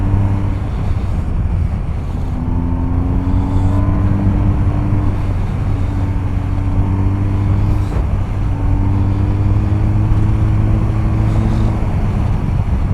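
A BMW R1250 GS motorcycle ridden hard into corners, its engine droning steadily with the pitch rising and falling through the bends, all under heavy, continuous wind rush.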